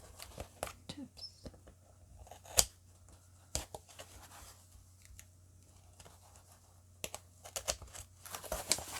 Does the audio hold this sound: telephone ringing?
no